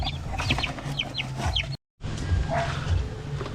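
Chickens and young chicks clucking and peeping in a poultry pen, steady close clucks with high chick chirps, briefly cut to silence midway before resuming.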